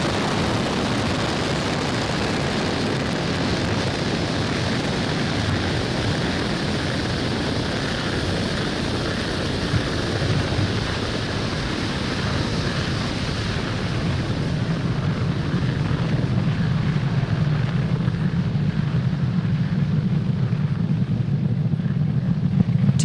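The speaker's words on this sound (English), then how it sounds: "Falcon 9 has successfully lifted off from Pad 40 at Cape Canaveral Space Force Station, carrying the O3b mPOWER payload." A SpaceX Falcon 9 rocket lifts off from Pad 40 at Cape Canaveral Space Force Station and climbs away, giving a continuous broadband roar with wind buffeting that grows heavier and deeper toward the end.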